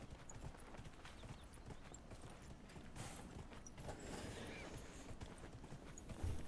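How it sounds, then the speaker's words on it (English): A horse's hooves clip-clop steadily as it travels in Dragon Age: Inquisition, a faint rhythmic patter under low background ambience. "Flying away on my magic horse."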